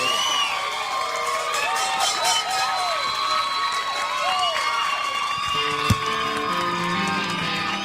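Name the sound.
audience applause and cheering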